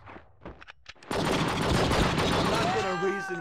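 Gunfire rings out in True Crime: Streets of LA. A few scattered sharp shots come first, then a loud, sustained stretch of rapid gunfire fills the rest of the moment.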